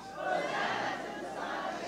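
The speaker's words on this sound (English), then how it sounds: "Everybody on this side is going to shout, Hosanna to the Son of David when I point to you" Large church congregation shouting a worship chant together on cue, a loud, sustained mass of voices lasting under two seconds.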